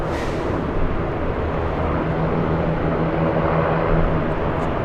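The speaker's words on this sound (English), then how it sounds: "The Cessna 402 Caravan, a Cessna 402" A Cessna 402 airplane passing overhead, its engine roar a steady broad rumble held at a loud, even level for several seconds.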